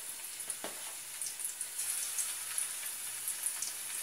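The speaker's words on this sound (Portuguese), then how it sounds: "E bora lá fritar." Steady sizzle of food frying in a pan in a home kitchen, a continuous hiss with small pops and crackles throughout, fairly close and moderately loud with no talk.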